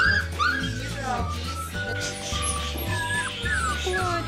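A puppy whimpers and yips in short, high, wavering cries over a steady hum, close by, while people talk around it.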